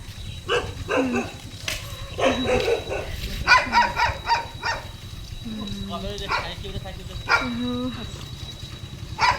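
A dog barks and yelps repeatedly in a village on a rainy day, with people talking over the barking.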